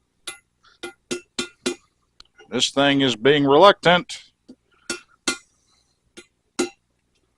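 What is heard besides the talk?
brass hammer gently tapping in motorcycle swing arm bearings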